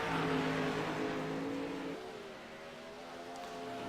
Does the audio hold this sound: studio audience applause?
no